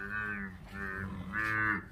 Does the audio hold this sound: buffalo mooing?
yes